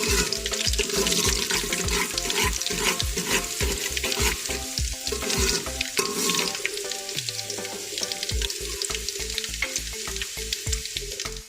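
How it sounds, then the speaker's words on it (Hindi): Garlic sizzles and fries steadily in a hot pan with oil, a continuous close crackle broken by regular rhythmic stirring scrapes, while a short burst of running tap water appears partway through. "लहसुन को 2 से 3 मिनट तक हमें फ्राई करना है।"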